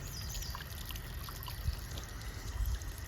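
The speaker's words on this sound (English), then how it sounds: "see how everything's draining. Come take a look. And it's a gushing." Water gushes and trickles out of a newly installed French drain at a steady, moderate level, with a continuous liquid rush and a few small splashes, heard alone.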